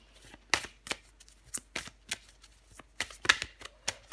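Tarot cards being shuffled in short, crisp riffles and slaps that come in uneven bursts, close to the mic, with no talking.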